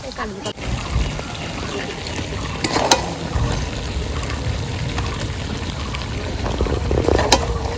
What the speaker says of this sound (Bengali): মাংসটা খুব সুন্দর করে কষিয়ে নিয়েছি